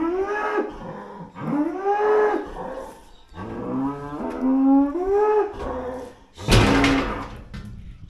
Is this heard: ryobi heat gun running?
no